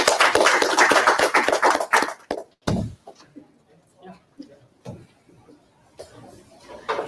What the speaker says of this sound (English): maybe we can all just give each other a round of applause